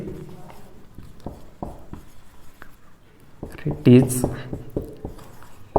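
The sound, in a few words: writing on a board during a lecture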